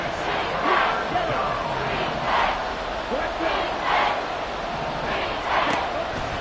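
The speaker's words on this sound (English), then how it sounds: "this crowd doing their best to make a lot of racket" A football stadium crowd roars steadily during a Panthers game, the loud rumble swelling in repeated waves, with announcers talking over it.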